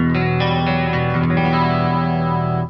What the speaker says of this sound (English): let's go to the next chorus sound, green.